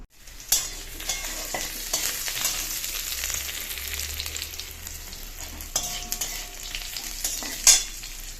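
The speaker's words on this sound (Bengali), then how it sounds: "তো দেখো এখানে ডালটা ফোড়ন দিয়ে নিলাম।" Dal is tempered with spices in hot oil, a loud, continuous sizzle with scraping stirs and occasional clinks of a utensil against the pan, no voices.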